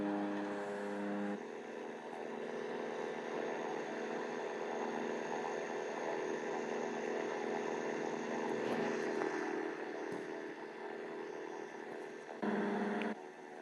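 Steady, droning engine hum of a C-130 transport aircraft in the flight simulator Infinite Flight, a continuous tonal roar held at even volume throughout, with no voices.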